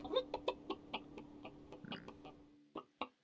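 A chicken in the online prop-hunt game Witch It clucks in a quick, evenly spaced run of short pecking bursts, fairly close and without talk, then goes quiet before two final clucks.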